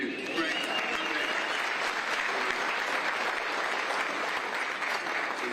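Sustained audience applause in a large hall during the Fulton County Commission chairman's State of the County address, a continuous dense roar of clapping that stays loud and even throughout.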